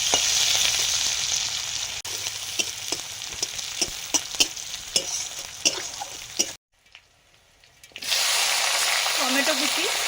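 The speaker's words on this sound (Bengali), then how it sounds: "পেঁয়াজ কুচি দিলাম" Chopped onions fry loudly in a hot pan, a steady dense sizzle with intermittent stirring clicks, cutting out briefly to near silence before the crackle resumes at full strength.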